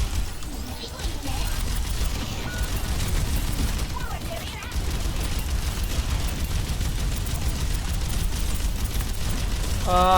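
Continuous gunfire rattles loudly and densely throughout a shooter video game, with people talking over it.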